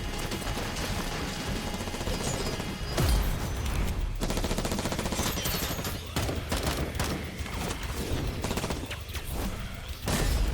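Loud, dense gunfire fills an animated Death Battle fight between Excalibur and Raiden, with rapid automatic bursts and clattering mechanical impacts running almost without pause.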